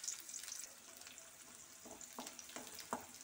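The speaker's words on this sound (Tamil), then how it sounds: "இப்போ வெங்காயம் ஆட் பண்ணிக்கிடுவோம் இப்போ நல்லா வெங்காயம் பொரியவும்" Onions fry in a pan while cooking arai keerai greens masiyal, giving a steady close sizzle with a few sharper stirring scrapes near the end.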